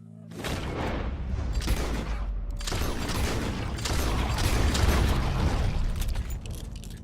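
Gunfire rings out in Red Dead Redemption 2 during a fight with a wild beast in the Old West. Loud, booming bursts mix with clattering noise and a rough rumbling backdrop that swells and fades.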